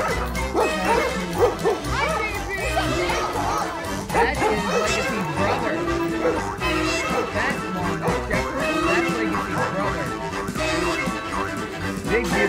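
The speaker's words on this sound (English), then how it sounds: "Our neighbors, the Bumpuses, have approximately 478 smelly hound dogs." Several hound dogs bark and yip in a busy, overlapping chorus, with some whimpering and voices mixed in throughout.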